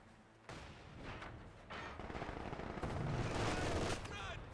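Machine gun fire from a Company of Heroes battle, sustained rattling bursts mixed with other gunfire and distant blasts, growing denser and louder toward the end, with a voice talking over it.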